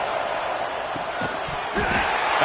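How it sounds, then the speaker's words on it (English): A stadium crowd in the NCAA 25 college football video game roars steadily as fans try to help the defense get a stop, with a commentator's voice talking over the noise. "this crowd coming to life here, trying to help the defense get a stop"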